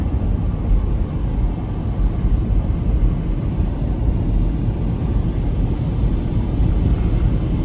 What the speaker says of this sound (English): that transmission shifts beautifully